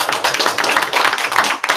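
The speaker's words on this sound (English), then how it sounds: "So we clap loud for Luke here" A room of seminar attendees claps loudly in a dense, continuous burst of applause lasting a couple of seconds, close and bright with no talking over it.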